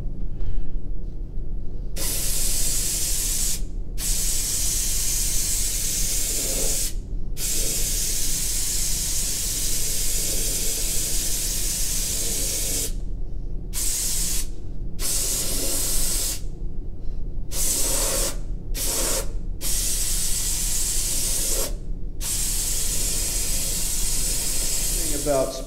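Glaze spray gun hissing steadily onto a pottery piece with a rutile matte glaze, long continuous bursts broken by short pauses, close and loud with a low compressor-like hum underneath.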